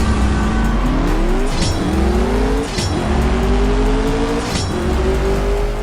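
A McLaren 720S engine in the CSR Racing 2 racing game revs hard and loud. The pitch climbs repeatedly, drops sharply at each gear change, and tires squeal briefly along the way.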